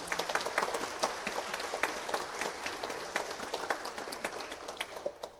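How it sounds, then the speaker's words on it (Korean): A church congregation at a Sunday morning service applauds the worship team, a quiet but steady patter of many hands clapping from across the sanctuary, dense and even with no talking over it. "오늘 특별히 찬양단에 박수 한번 해주세요."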